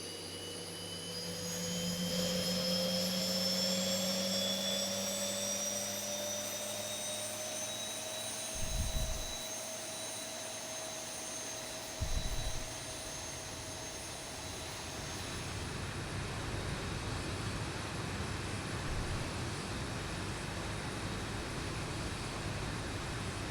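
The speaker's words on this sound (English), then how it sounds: "Alright, engine 2 start looked good." An airliner engine spools up during start in the X-Plane 12 flight simulator: a rising turbine whine with steady tones climbing over a broad rush of air, and two brief low thumps midway, sustained and alone.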